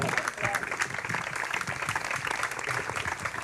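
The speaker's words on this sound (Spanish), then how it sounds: "Pueden aplaudir" An audience at a literary tribute event claps in a moderately dense, somewhat uneven round of applause, with faint voices mixed underneath.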